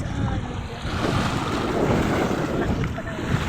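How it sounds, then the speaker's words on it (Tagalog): Powerful sea waves churn and break close by, a loud, continuous wash of surf mixed with wind buffeting the microphone, holding steady throughout without speech. "Lakas yung alon."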